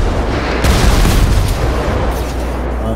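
Loud, sustained AK rifle fire and booming blasts fill a video game firefight in narrow alleys, a dense continuous barrage with no clear gaps.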